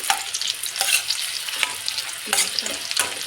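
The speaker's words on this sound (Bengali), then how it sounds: "এরপর তেজপাতা ফোড়ন দিলাম আর গোটা শুকনো লঙ্কা একটা দিয়ে দিলাম" Bay leaf and a whole dried red chilli sizzle and crackle in hot white oil, with steady frying hiss broken by a few stirring scrapes, close and moderately loud, no voices.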